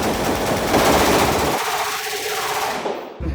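Rapid automatic gunfire at an outdoor shooting range in the United States, a loud close burst of continuous shots that cuts off abruptly, leaving a fading echo before a final sharp report.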